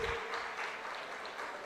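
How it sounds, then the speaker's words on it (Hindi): An audience at a live Jain sermon applauds, with dense, steady clapping from a crowd that carries on evenly for a moment, without speech. "तालियां बजी जबरदस्त।"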